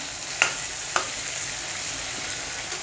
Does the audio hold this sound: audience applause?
no